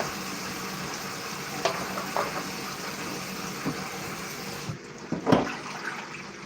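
Water pours steadily into a cooking pot in a home kitchen while shrimp scampi is being prepared, a continuous rushing splash with a few brief clinks near the end and no talking.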